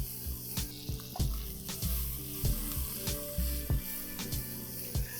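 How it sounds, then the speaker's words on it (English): Quartered white onions sauté in butter over a high flame, a soft steady sizzle punctuated by regular clanks and scrapes of a utensil stirring against the pan, fairly quiet and without voices. "Let the onions slightly get sauteed."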